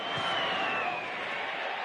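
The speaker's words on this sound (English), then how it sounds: "Oh, the crowd loves it. Up go the flags" Broad roaring cheer from a rugby crowd after a successful kick in a club final, a dense wash of voices sustained throughout the short moment.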